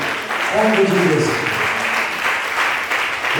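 A church congregation claps hands together at a worship service, dense steady applause heard under a preacher's voice and some overlapping speech.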